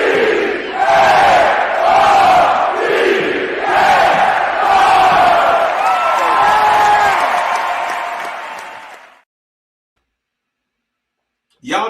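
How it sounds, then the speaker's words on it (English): A real sports game crowd roars and cheers loudly for several seconds, a dense wash of massed voices with shouts and whoops, then cuts off abruptly to silence before a brief burst returns. "That's a real game crowd."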